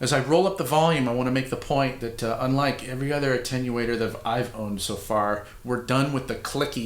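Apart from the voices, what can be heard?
None of the usual background noises is heard.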